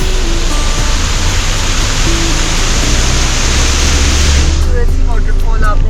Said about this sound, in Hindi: ये बहुत ही खूबसूरत वाटरफॉल है